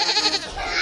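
A toy goat lets out a quavering, wavering electronic bleat, loud and close, lasting under a second with a trembling, vibrato-like rhythm and no talking over it.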